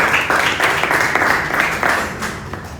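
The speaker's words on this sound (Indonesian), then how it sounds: "Tepuk tangan untuk berdiri." A classroom of students applauds, a steady dense patter of many hands clapping at moderate loudness with a murmur of voices underneath.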